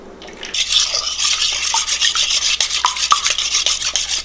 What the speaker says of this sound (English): Whisk in 3/4 cup of milk.